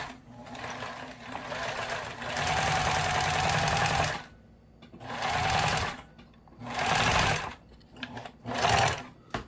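A sewing machine winds thread onto a bobbin in repeated bursts of steady whirring motor hum, each running a second or two with short pauses between, close and fairly quiet.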